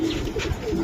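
Giribaj pigeons at a sale coo softly and repeatedly at close range, low throaty calls rising and falling over a steady background hum.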